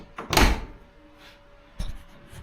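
The door of a BMW 2002 is shut against a freshly adjusted striker, giving two solid, close thumps about a second and a half apart in a quiet space.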